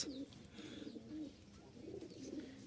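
A biscuit-coloured pigeon coos close by in soft, repeated throaty phrases over a quiet background.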